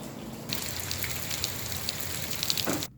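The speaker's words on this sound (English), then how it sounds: "all of a sudden, lo and behold, it's raining" Steady rain patters on a hard surface, a dense hiss of drops with occasional louder splashes, continuous throughout and fairly close.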